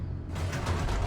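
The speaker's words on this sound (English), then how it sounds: "The elevator raced downward, plummeting towards an unknown fate." An elevator in The Stanley Parable video game descends with a steady mechanical rumble and creak, holding at the same loudness and close up through the whole brief moment.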